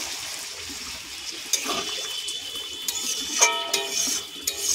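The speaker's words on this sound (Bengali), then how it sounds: "এবার জল দেবো।" Water poured from a vessel into chela fish curry masala simmering in a pan, a steady splashing pour with a few louder splashes and clinks near the end, close up and alone.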